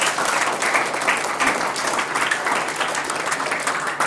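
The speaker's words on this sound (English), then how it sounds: "We give Maxie one more round of applause." Another round of dense crowd applause for an award winner at an awards night, steady and loud from start to finish with no break.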